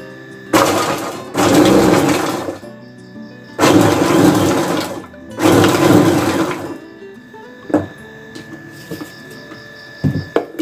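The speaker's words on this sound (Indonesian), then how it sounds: "di sini saya mau giling bawang putih sama cabai" A blender grinds garlic and chili peppers in three loud, close bursts of a second or two each. Quieter clicks and a faint hum follow between and after the pulses.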